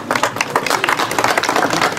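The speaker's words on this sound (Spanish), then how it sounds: "Y aplaudimos todos" Guests at a church wedding break into loud, dense applause, many hands clapping at once in a thick, continuous patter that stays strong throughout.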